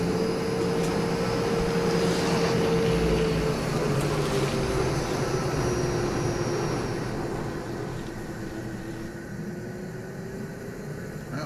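A spaceship engine roars in the VR game Eclipse: Edge of Light as a loud, steady drone with a slowly falling whine, fading slightly toward the end, with no voices.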